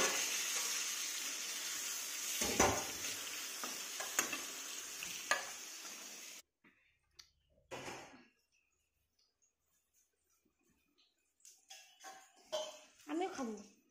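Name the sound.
eggplant frying in a pan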